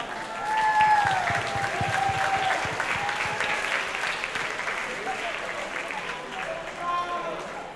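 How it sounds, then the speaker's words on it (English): An audience at a band competition prize presentation claps steadily for several seconds, a dense wash of applause with faint tonal sounds drifting above it. "All of them a big round of applause."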